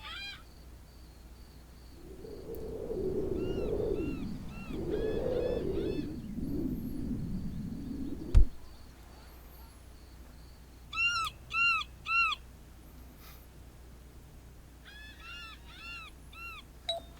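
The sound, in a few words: birds calling in the Second Life video game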